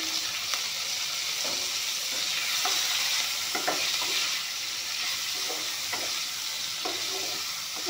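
Paneer pieces sizzle steadily in hot oil in a pan while they are stirred, with a continuous close frying hiss broken by soft scraping and clinks.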